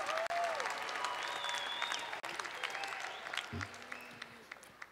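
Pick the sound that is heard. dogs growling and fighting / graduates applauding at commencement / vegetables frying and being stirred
graduates applauding at commencement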